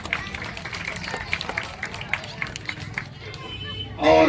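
Audience claps at a restaurant inauguration event in Parbhani, a dense, continuous patter of many hands with crowd babble underneath, fading out near the end.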